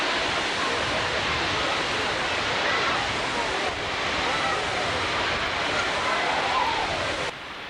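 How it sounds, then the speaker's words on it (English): Roadside waterfall in Oregon rushes in a constant loud, broadband roar, steady and close with no break. "there's so many waterfalls just alongside of the road like this"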